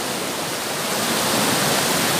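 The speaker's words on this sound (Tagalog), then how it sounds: "ito po ang aming napakalakas na tubig sa Barangay Mukas" Tamadong Falls in Barangay Mukas, a powerful waterfall, roars as a steady, loud broadband rush of crashing water, continuous and close with no voices.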